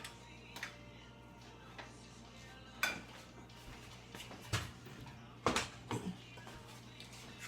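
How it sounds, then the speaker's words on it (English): Chicken, spaghetti noodles, butter and garlic stirred together in a pan, with scattered clinks and scrapes of a utensil against the pan over a faint steady hum, a few sharper knocks standing out. "we got the chicken and the spaghetti noodles and the butter and garlic all mixing together"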